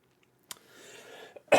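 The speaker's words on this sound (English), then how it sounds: "God, sorry, coughing more." A single close, sharp cough breaks the quiet, followed by a breathy pause and then a second harsher cough at the end.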